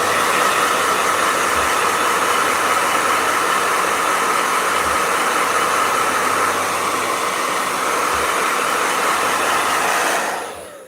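A blow dryer runs continuously at close range, a loud, steady airy roar with a faint low thump now and then, before it cuts off abruptly at the end.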